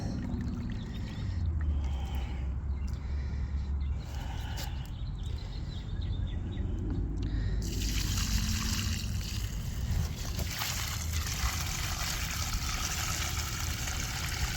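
Dirty water trickles and pours from rendered old honeycomb wax as it cools, a steady wet dribble that grows brighter and louder partway through, with no talk.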